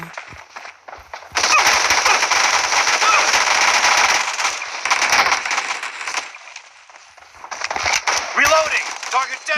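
Rapid automatic gunfire from the video game PUBG Mobile rattles in long loud bursts with short gaps, and someone talks over the shooting.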